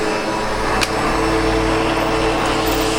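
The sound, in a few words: SEBO Automatic X7 Boost ePower vacuum cleaner running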